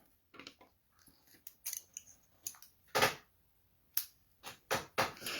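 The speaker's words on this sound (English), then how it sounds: "I'm going to cut 1 foot of this." Scissors snip stretchy bead elastic cord in a quiet room, several sharp separate cuts with irregular pauses between them, near and fairly crisp.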